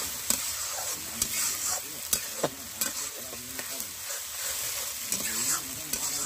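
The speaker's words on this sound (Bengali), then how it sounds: "আর এখন আমি দিয়ে দিচ্ছি কাঁচা লঙ্কা বাটা।" Green chili paste goes into chicken frying in a pan, a steady high sizzle with repeated scraping stirs and utensil knocks close by, no talk.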